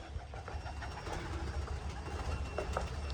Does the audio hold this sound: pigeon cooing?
yes